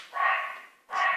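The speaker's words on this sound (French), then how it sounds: "j'ai dû calmer mon chien" Small dog indoors giving two sharp, nasal barks or yips in quick succession, close and fairly loud, with no other sound around them.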